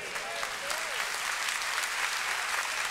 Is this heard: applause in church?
yes